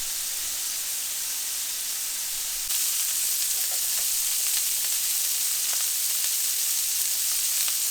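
Salted burger patties sizzle as they cook, a steady close hiss that jumps louder a few seconds in and then holds, with faint pops and no talk.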